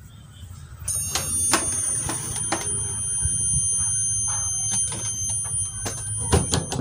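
A Samsung CS21D500HT CRT television under repair, with a failing horizontal transistor, lets out a steady high-pitched squeal after its channel button is pressed, a continuous piercing whine over low hum and scattered clicks and handling knocks.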